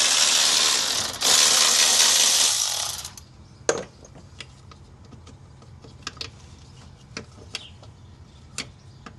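A hand ratchet clicks quickly and steadily while removing the throttle body nuts on a Toyota Tacoma. After that, scattered single clicks and light metallic taps follow at close range, with no talking.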